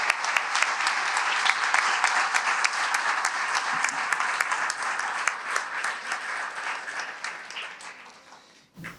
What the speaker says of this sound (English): let's offer them a round of applause